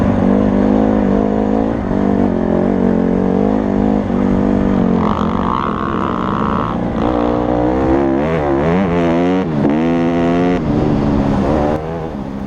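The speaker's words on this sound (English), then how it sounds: "I do love flooring it through here. The bikes sound so good." Honda dirt bikes floor it through a canyon wash in the Wyoming badlands, a loud, continuous engine roar with rising and falling revs as the riders accelerate and shift, close and steady throughout.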